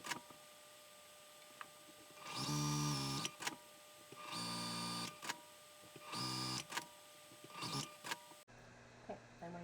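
Sewing machine stitching along the seam of a handmade zipper pouch, in three separate loud bursts of rapid whirring, each about a second long, with quiet handling sounds between.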